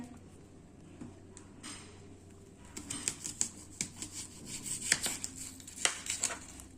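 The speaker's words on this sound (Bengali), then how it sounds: "এবারে কাটা হচ্ছে পেঁয়াজ" A knife chops an onion on a board at home, starting quiet and then turning into a quick run of crisp, close cuts in an uneven rhythm, with no talking.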